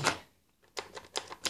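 Rapid clicky keystrokes on a Tenkey Neotype keyboard, one sharp press then a quick uneven run of clicks after a brief gap, close and moderately loud with no talk.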